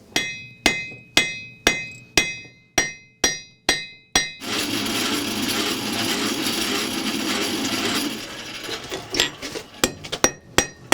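A blacksmith strikes steel with a handmade hammer, about ten sharp, ringing, evenly spaced blows close up, then a stretch of steady grinding or rasping noise, then faster, lighter taps toward the end.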